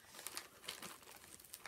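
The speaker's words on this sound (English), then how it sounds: "There's going to be bag rustling" A plastic bag crinkles and rustles in quick, light bursts while stitching supplies are sorted, close but quiet, with no speech.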